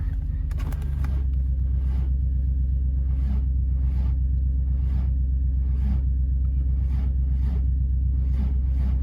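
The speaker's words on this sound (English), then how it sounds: "It's cranking better." Ford Falcon farm car cranking over on the starter after a shot of brake cleaner, a steady low rumbling churn with evenly spaced rhythmic pulses, a sharp clatter at the start, continuous and close.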